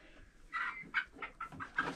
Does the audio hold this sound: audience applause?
no